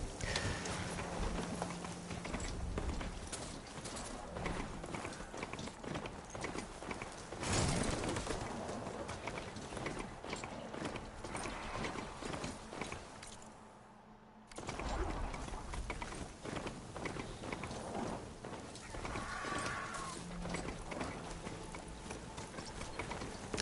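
Robot horse mount galloping in Horizon Forbidden West, a steady rapid clip-clop of mechanical hooves running continuously over game ambience, with a brief lull midway before the gallop resumes.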